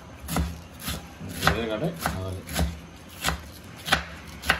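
Knife chopping vegetables on a board, with a steady run of sharp, fairly close thuds spaced about half a second apart and no voices over it.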